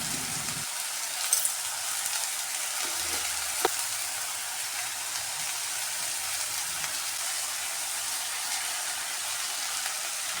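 Ridge gourd pieces frying in oil give off a steady, even hiss with a couple of faint knocks early on, close and unbroken for the whole stretch.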